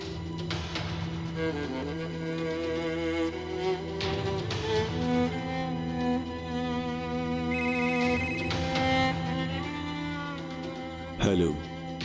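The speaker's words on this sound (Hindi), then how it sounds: "फोन उठाओ सुरैया, फोन उठाओ।" A phone rings with a repeating tonal melody that holds steady for several seconds, ending with a sharp clatter near the end.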